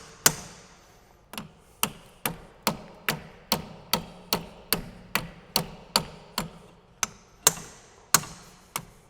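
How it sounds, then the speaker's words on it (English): Repeated sharp metallic hammer blows on a seized rear brake caliper bracket of a 2010 Dodge Caravan strike in a steady rhythm, about two per second, loud and close with brief ringing after each hit. "hammer the crap out of it and try to break it free"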